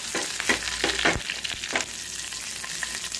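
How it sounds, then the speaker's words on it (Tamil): Cumin seeds and curry leaves sizzle and pop in frying oil for a beetroot chutney tempering, a steady close hiss broken by sharp crackles and stirring scrapes. "சீரகம் போடும்போது அந்த பொறிஞ்சு வரட்டு"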